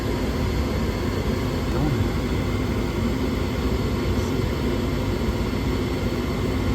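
A home furnace on a cold morning running its blower and inducer motor, giving a steady, loud, broadband whooshing hum that stays even throughout with no pauses.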